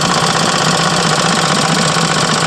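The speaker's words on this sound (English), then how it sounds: "Bendix Eclipse at idle." An old 1939 Bendix Eclipse TMD 4.5 hp air-cooled engine idles loud and close, a steady rapid chugging with a fine mechanical clatter and no other sounds.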